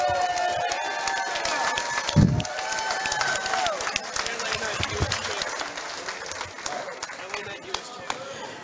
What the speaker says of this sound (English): How about a round of applause for both of these women?